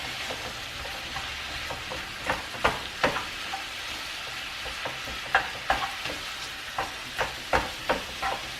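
Ground cumin being stirred in a hot frying pan, with a soft continuous sizzle under a string of sharp spatula scrapes and taps against the pan, close and moderately loud.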